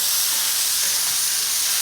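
Bacon browns in a hot pan, giving a bright continuous sizzle and hiss, close and even throughout the short stretch with no talking.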